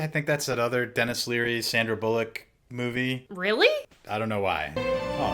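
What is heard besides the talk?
No everyday noises stand out.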